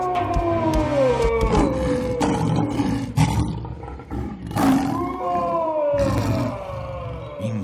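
A large bull bellows in an animated film, giving long, loud, groaning roars that rise and fall in several overlapping bursts over a rumbling low background.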